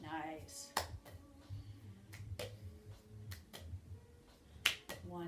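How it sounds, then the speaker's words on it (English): Several sharp hand claps ring out at irregular intervals during a seated senior strength exercise with a ball, fairly close and crisp, with quieter background movement between them. "add a clap before you catch your ball"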